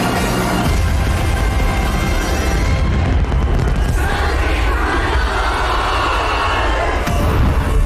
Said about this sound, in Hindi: रेड स्क्वायर पर जोरदार आतिशबाजी होने लगी।